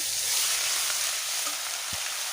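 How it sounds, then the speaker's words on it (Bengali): Whole chilies and onion paste frying in hot oil, with ground spices going into the pan for a koi fish curry, producing a steady close sizzle with a few soft stirring knocks and no voices. "ফোড়নে দিয়ে দিচ্ছি গোটা লঙ্কা দিয়ে দিচ্ছি পেঁয়াজ বাটা"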